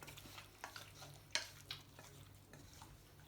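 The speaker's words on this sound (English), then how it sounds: "Give them one last stir, make sure they're all mixed up." Vegetables in a pan for chicken quesadillas get a final stir: faint, scattered scrapes and clicks of a utensil against the pan over a low, soft sizzle, heard close in a quiet kitchen.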